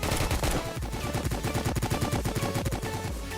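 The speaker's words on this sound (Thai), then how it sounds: "เขายิงจากไหนเนี่ยผมมองไม่เห็นเลย" Rapid automatic gunfire in the Roblox-style game Prison Life, a dense stream of sharp shots with a steady rhythm, close and loud, with no talking.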